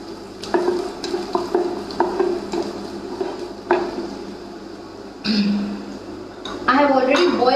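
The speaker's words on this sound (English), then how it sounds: "So once the oil is a little hot, I'm going to be putting the garlic." Garlic and ginger frying in hot oil, with clattering utensil scrapes and pan knocks over a soft sizzle, then louder bursts of sizzling near the end; a voice talks throughout.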